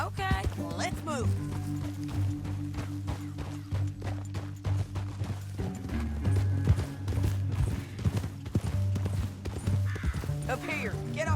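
Rhythmic hoofbeats of galloping horses in Red Dead Redemption 2, steady and close, mixed with music and effects, with voices talking over them.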